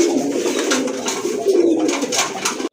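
A flock of pigeons at a pigeon sale, including a male Beauty Homer, coos in a steady, close, low rolling drone that fills the whole stretch without pause.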